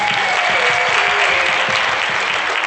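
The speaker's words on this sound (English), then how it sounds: "A good round of applause." A crowd at an Africa Day 2017 event applauds dignitaries on stage, with loud, dense, sustained clapping that fills the room evenly from start to finish, and a faint tone running underneath.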